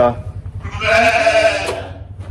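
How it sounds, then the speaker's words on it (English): Sheep bleat on a farm in the evening, one drawn-out bleat rising clearly in the middle over a low background rumble. "sheep are saying goodnight"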